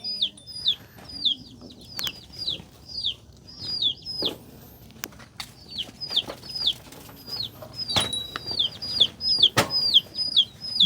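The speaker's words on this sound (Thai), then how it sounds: "ไก่ก็หาบนนอนแล้วบัดนี้" Chickens settling onto their roost give rapid, high-pitched repeated calls in bursts, with scattered sharp knocks and clatters around them throughout.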